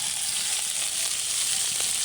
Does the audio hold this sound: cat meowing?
no